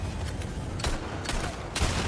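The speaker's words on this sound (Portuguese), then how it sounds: "É culpa da Ashley, o bombardeio, Carlos." Gunfire and bombardment from the Resident Evil 4 video game crackle in a few separate sharp bursts over a continuous low rumble, moderately quiet overall.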